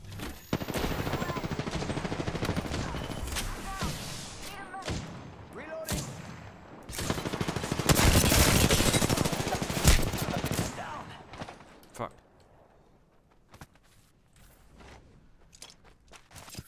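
Gunfire in an Apex Legends match played as Octane: dense bursts of automatic weapon fire and impacts, loud and close, fill most of the clip, with a heavier stretch of sustained shooting before it thins to scattered, fainter sounds.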